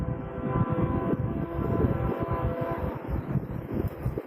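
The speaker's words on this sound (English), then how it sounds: "Sounds like trains coming through." Trains roll through town near a Murfreesboro, Tennessee battlefield, a steady distant rumble with a faint horn-like tone running throughout.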